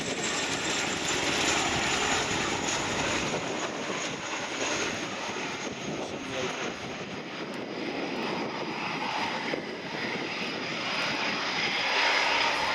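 An Airbus A400M Atlas military transport at an air display roars through its turboprop engines in a loud, sustained, steady drone that barely wavers throughout, with no voices.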